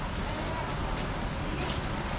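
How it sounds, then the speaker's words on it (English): Steady rain patters on a market street in Macau, a soft continuous hiss of drops on pavement with no distinct voices standing out. "And it's kind of raining today"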